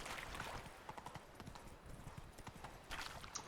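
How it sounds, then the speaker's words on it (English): A horse gallops at full speed down a hill in The Witcher 3: Blood and Wine, its hooves beating a quick, steady clip-clop that stays close and fairly quiet, with no voices over it. "Now we can run full speed down this hill. And I'm surprised Roach is actually doing this"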